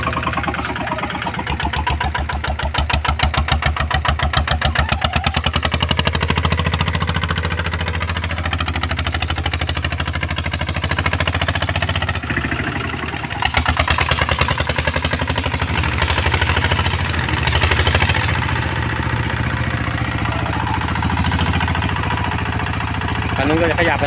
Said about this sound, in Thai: ท่อดังเพราะเลยนะ